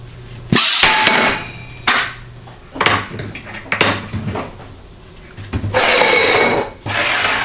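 Metal clanks, knocks and scraping as the piston is pulled from a worn 700R4 automatic transmission case, several sharp close impacts separated by quieter handling sounds, no talking.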